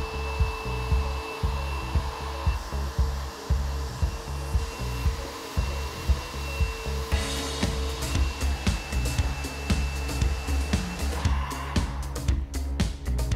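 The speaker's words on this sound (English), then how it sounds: "with gentle strokes, we bring the as new look back to the Land Rover with our 20-pound heat gun" A cheap 20-pound heat gun blows across the plastic bumper of a Land Rover Freelander, its fan roaring in a steady close whoosh with small rhythmic surges as it sweeps back and forth. No one speaks.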